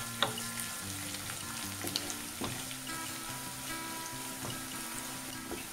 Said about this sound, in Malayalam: ഇനി ഇതെല്ലാം കൂടി നന്നായിട്ടൊന്ന് മൂപ്പിച്ചെടുക്കാം.